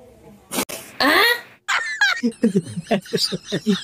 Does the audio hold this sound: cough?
yes